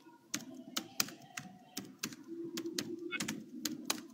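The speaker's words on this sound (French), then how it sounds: "avant qu'il finisse de taper son clavier" Someone types on a computer keyboard in quick, irregular clicks and taps, faint and somewhat distant, over a low murmur of background voices.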